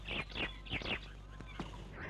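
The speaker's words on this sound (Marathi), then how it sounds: "ही चिवताई विचारते आहे कधी येणार" Sparrow chirping sound effect in a Marathi radio play, a few quick bright chirps in short bursts over a low steady hum, fairly close and moderately faint.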